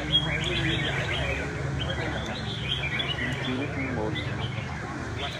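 Chirping calls from a competition fighting songbird, recurring in short phrases over a constant noisy backdrop with people talking nearby.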